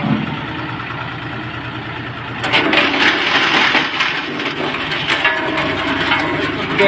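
Auger-type branch shredder chipping a thick piece of hard walnut wood: a steady engine drone that jumps louder after about two seconds into a dense, grinding crunch, continuing close and unbroken without talk.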